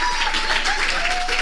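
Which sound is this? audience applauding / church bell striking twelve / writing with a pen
audience applauding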